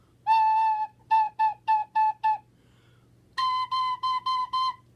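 A whistle played with no holes covered sounds one clear note, first as a long tone, then a run of short tongued repeats, then another long tone with quick repeated bursts, close and solo.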